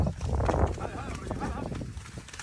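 Horses clip-clopping on a farm, hoof falls loosely paced and moderately close, mixed with ongoing talk and background commotion.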